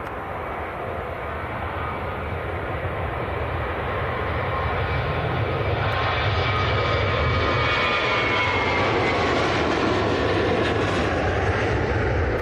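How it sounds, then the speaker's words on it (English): An Emirates jet airliner from Dubai passes at Manchester Airport, its engines a loud, continuous roar that builds to a steady, fairly close drone, with no voices over it. "So that is Emirates from Dubai."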